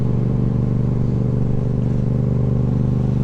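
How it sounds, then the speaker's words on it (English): A motorcycle fitted with an aftermarket exhaust rides steadily, its loud, low engine drone and harmonic rumble running continuously and close up with no voices. "But this bike is loud."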